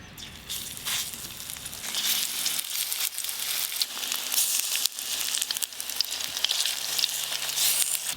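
Mustard-flower fritters (bora) fry in hot oil, a continuous bright crackling sizzle that builds after the first couple of seconds and holds steady and fairly close throughout.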